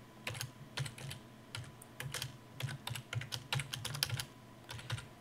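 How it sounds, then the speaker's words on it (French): Steady typing on a computer keyboard while entering sample text into a Word 2007 table, rapid clicky keystrokes in an uneven run, close and clear with no voice over it. "Donc je continue de taper mon texte d'exemple."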